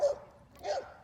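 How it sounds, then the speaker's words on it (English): A dog gives two short barks, one at the start and one near the end, fairly faint and distant indoors, with no talk over them. "Sorry for the dog."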